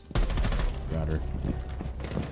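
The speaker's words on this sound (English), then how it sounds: "The gunshots sound extra crispy outside right now." A burst of rapid gunfire cracks out at the start in Rainbow Six Siege, followed by scattered shots and game sound effects with a voice briefly under it.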